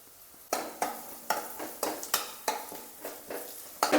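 Potato samosa filling being stirred and fried with salt, garam masala, coriander powder and chili, soft sizzling under a series of repeated scraping strokes in a pan, roughly two per second.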